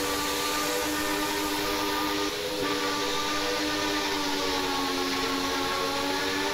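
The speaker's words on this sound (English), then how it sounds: "If you hold the enter button down, it will quill the whistle," A steam locomotive whistle on a Machine Rail EFCB 0-8-8-0 in Train Simulator Classic, quilled so it blows one long, steady, chord-like tone with a breathy hiss over continuous rail noise, loud and close.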